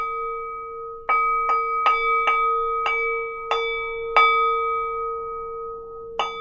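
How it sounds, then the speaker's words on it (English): A meditation bell struck repeatedly, about eight clear rings at irregular intervals, each with a bright attack and a long sustained hum, close and fairly loud over a steady background drone. "maybe you can not just hear the pulse of the bell, but actually feel it"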